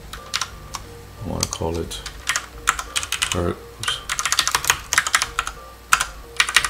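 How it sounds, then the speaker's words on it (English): Close, rapid typing on a computer keyboard, with bursts of clacky keystrokes and a few pauses, while someone speaks briefly over it. "I know some people like the sound of my keyboard."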